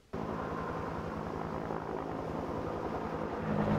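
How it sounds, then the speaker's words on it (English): A helicopter hovers over a city, lifting replacement telecom poles into a fire-burned area, its steady, close rotor and engine drone holding throughout with no voices. "helicopters hovered over the city in an effort to replace telecom poles in the burn area"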